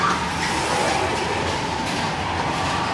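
Space Mountain, the indoor roller coaster at Magic Kingdom, rumbles steadily from nearby with a dense, continuous rolling roar and rattle, loud and alone without talk.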